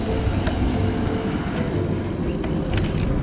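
A car passes slowly along a road in rural Tanzania near the Kenya border, its steady engine and tyre roar broadband and constant throughout, with no talk.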